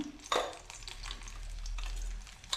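Dried red chillies sizzle in hot oil, a steady soft frying hiss running under a few sharp clinks and a stirring scrape near the start and end.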